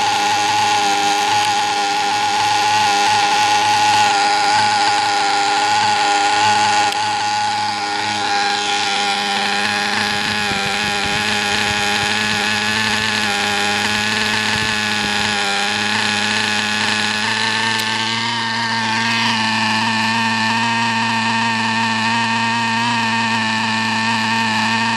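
A nitro model engine idles steadily during break-in, a rich, fat-running buzz with strong steady harmonics that holds close and loud for the full stretch, with no voices.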